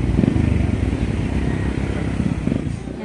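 A motorcycle engine runs close by with a steady, rough idle-like rumble and light mechanical clatter throughout, no speech over it.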